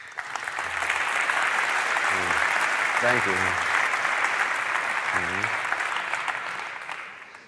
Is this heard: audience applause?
yes